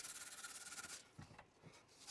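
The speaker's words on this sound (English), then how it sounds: "I put the buffer stocks in the main vise in the workshop and used some emery cloth to just clean them up" Faint, steady rasping and rubbing as emery cloth scrubs cured JB Weld off steel buffer stocks from an old steam locomotive, clamped in a workshop vise, with a few softer scraping strokes toward the end.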